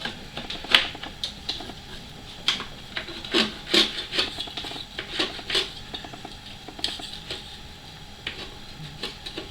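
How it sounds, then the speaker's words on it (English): Hand scraping of chipped material off a Cessna U3 B canopy plug, a series of close, rough rasping strokes at an irregular rhythm with light clinks, no talking. "Just keep scraping it off till you get down to the hard edge"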